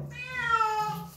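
A single drawn-out meow from a pet cat, rising and then falling, close and clear, heard around bath time.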